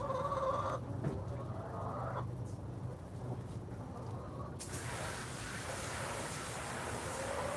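Backyard chickens on a hot Ohio homestead cluck in soft, scattered calls over steady outdoor noise, with a broad hiss of spraying water filling the second half.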